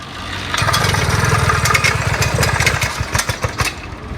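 A Chinese F-80 79cc petrol engine fitted to a bicycle starts up and runs with a close, loud, buzzing two-stroke drone, then turns choppy and sputters unevenly toward the end.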